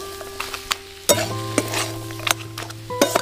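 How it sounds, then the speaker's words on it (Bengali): A beetroot and carrot vegetable mixture is stirred in a pan, with a low sizzle under repeated scraping and knocking of a spoon against the metal, close and uneven in rhythm. "এবার ভালো করে মিশিয়ে নিচ্ছি।"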